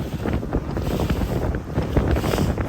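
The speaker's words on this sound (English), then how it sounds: "The winds have picked up. They're around like 40 miles per hour now." Strong, steady wind roars and buffets the microphone aboard a boat on open water during Tropical Storm Debby, with gusts around 40 miles per hour and waves washing underneath, loud and continuous with no talk.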